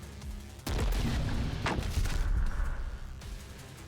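A mortar in the strategy game The Last Spell fires with a heavy boom, followed by a cluster of sharp explosive bursts and crashing impacts that ring out and fade over a few seconds.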